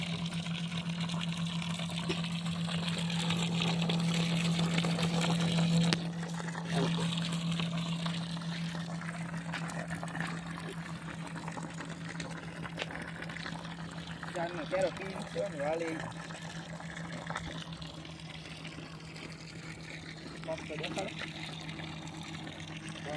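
Battery-powered DC pressure pump motor rated 120 to 500 psi pushing water, a steady electric hum with flowing water, and someone speaking over it.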